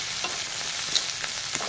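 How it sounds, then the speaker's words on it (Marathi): A snack mixture with roasted peanuts is sautéed in a pan, producing a soft continuous sizzle with light scraping stir sounds over a short stretch. "हे टाकून व्यवस्थित परतून घ्यायचं आहे"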